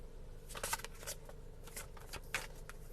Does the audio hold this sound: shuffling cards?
yes